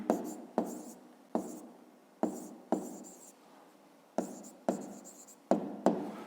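A pen writing an answer to a fifth-grade math problem, heard as a series of short scratchy strokes in an irregular rhythm, close and fairly quiet, with faint breathing between.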